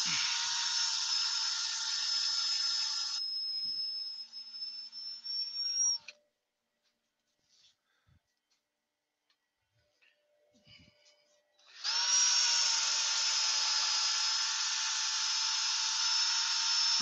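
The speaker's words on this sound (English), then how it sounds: "I can't hear very well with this dust extractor on" A dust extractor in a woodworking shop runs loud and steady with a high whine, cuts out into near silence with faint knocks, then starts up again at full volume.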